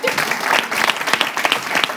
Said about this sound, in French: Applaudissements pour la barbichette